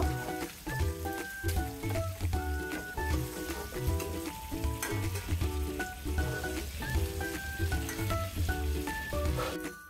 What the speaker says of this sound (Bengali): মাছগুলোকে আমি হালকা বাদামি করে ভেজে নিয়েছি।